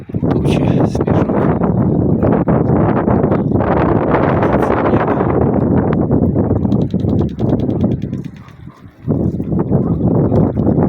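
Strong wind gusts roar against the microphone outdoors in cloudy, snowy weather, a loud, continuous rushing buffet that briefly dips near the end before surging back.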